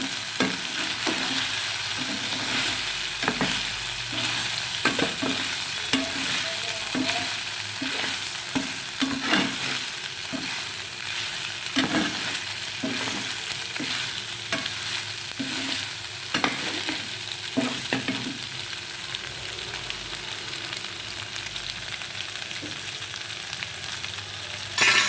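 Chicken fries with ginger, clove and cardamom masala in a pan, a continuous close sizzle broken again and again by the scraping knocks of a spoon stirring through the pieces.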